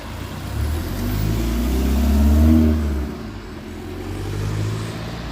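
A car drives past on a midtown Toronto street, its low engine rumble swelling to a peak and fading, followed by a fainter second vehicle approaching.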